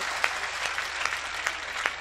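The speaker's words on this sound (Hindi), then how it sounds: "आप सबसे निवेदन करता हूं मेरे स्वागत में दोबारा जोरदार तालियां बजाएं" An audience at a Hindi comedy-poetry event claps to welcome the poet, a continuous dense wash of applause with faint rhythmic accents, carrying through the whole short stretch without talk.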